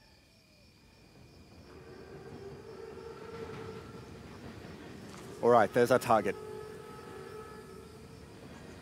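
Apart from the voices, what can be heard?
armored train (Panzerzug) in video game Call of Duty WWII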